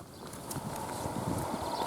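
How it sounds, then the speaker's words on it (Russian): Rhythmic clip-clop of horse hooves on the ground, a steady walking pace, fairly close amid outdoor village ambience near Khutor-Mikhailovsky. "А в селе, как полагается, лошадь."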